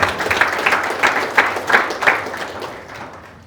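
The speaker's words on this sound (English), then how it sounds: "let's have a round of applause for creation of that" A roomful of people applauds the creation of a healthy home design guide, with dense, lively clapping that peaks early and then gradually thins and fades toward the end.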